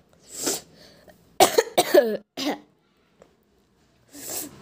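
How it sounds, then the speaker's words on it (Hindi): Several harsh, close coughs come in a quick cluster, followed by a pause and another cough, with a short burst of breath at the start. "माफ़ करना थोड़ी सर्दी खांसी है"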